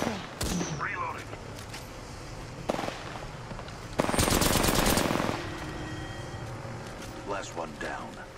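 Automatic gunfire in the Apex Legends battle royale game crackles in short, sharp bursts, with a heavy, loud volley midway and scattered single shots around it, while in-game voices talk between the bursts.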